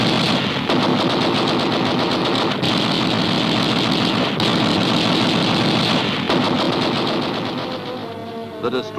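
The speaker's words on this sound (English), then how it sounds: "a torrent of gunfire is turned on the crippled sub" A torrent of rapid machine gun fire pours from a warship onto a crippled submarine forced to the surface in mid-ocean during WWII, loud and continuous bursts over a heavy engine rumble, tapering slightly at the end.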